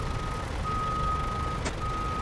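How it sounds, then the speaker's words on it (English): A truck's reversing alarm in the game Snowrunner gives a steady, thin electronic tone that drops out briefly twice, heard over a constant low engine rumble with one short sharp click. "I'm getting the reversing beeps."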